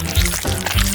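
Melted chocolate poured into a mold in a kitchen, a brief close liquid pouring and glugging sound lasting about a second.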